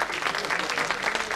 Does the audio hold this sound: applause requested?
yes